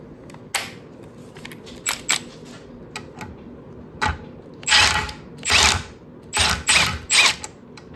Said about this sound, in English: I'm gonna grab an impact wrench, try to get this bolt off.